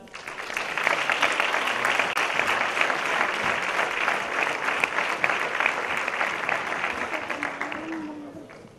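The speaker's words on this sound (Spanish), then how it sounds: "Vamos a recibir con un fuerte aplauso el campeón del circuito local de tenis de Almonte" Warm, sustained applause from an audience at a 2017 sports gala in Almonte, greeting the local tennis circuit champion, steady and full for several seconds before tapering off as a voice begins.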